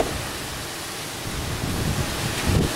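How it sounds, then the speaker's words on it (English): Strong wind buffets the microphone outdoors on a farm, a steady broadband roar that swells into a louder gust near the end, with no talking. "It's awful windy outside, so if I film and you get a lot of wind, I'm sorry."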